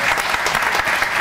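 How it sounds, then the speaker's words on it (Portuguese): An audience applauds loudly and continuously for a short burst, a dense even wash of clapping with no pauses. "Um aplauso."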